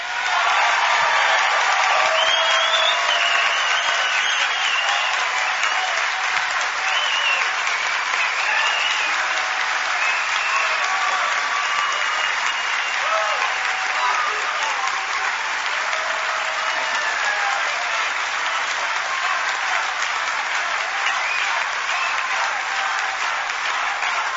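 A large crowd at a CPAC political conference applauds and cheers for Marco Rubio's speech, with sustained, loud clapping and scattered whoops over a roughly uniform roar that fades only slightly toward the end.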